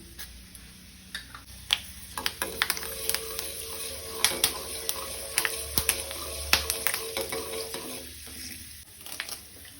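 Mustard seeds, urad dal and fenugreek seeds crackle and sizzle in hot oil for a Goan raw mango curry, with a steady frying hiss broken by frequent sharp pops and ticks close by, no voices.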